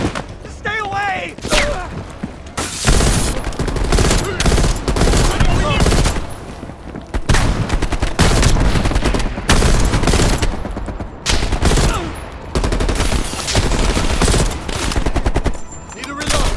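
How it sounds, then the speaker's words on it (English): Heavy gunfire in the Call of Duty Black Ops Cold War campaign: dense, loud bursts of automatic fire and thumping shots almost without pause, with shouted voices mixed in. "They're shooting at us!"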